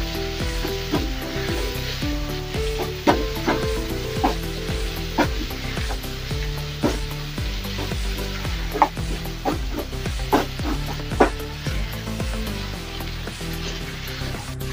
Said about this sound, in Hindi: इस तरीके से अच्छी तरीके से भुनाई करनी है इसकी